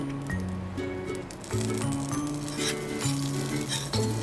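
A veggie quesadilla frying in extra butter in a pan, giving a steady close sizzle with scattered light clinks, under background music and no talk.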